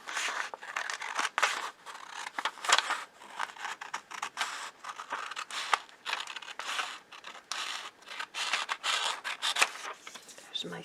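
Scissors snip steadily through paper sewing pattern pieces for a back princess line, making close, continuous crisp cuts and rustles with brief pauses between strokes.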